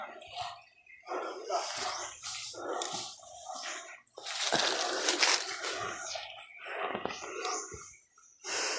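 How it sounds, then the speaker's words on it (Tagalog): A dog near a rural hut gives a series of barks and yelps in irregular bursts, fairly close, with brief pauses between outbursts. "May aso, tol."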